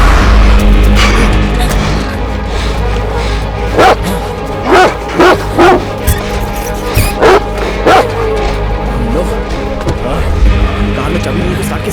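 A dog in a Hindi-dubbed thriller film scene barks repeatedly in sharp, loud bursts, some yippy, between stretches of low rumbling background noise.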